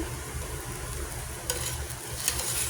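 A pan of sautéed mung beans sizzles steadily up close as shrimp go in, the even frying hiss punctuated by a couple of quick utensil scrapes and clinks, no one speaking.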